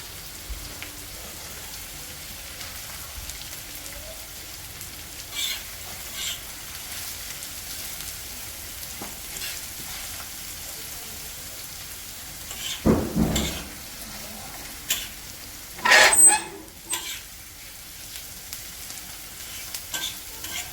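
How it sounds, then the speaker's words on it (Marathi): Onion and curry leaves frying in hot oil for a prawn tava fry give a soft, steady sizzle, broken by a few louder bursts of stirring and scraping near the end. No one speaks. "तेलात कांदा टाकून घेऊ कढीपत्ता पण टाकतो करीपत्ता आणि कांदा"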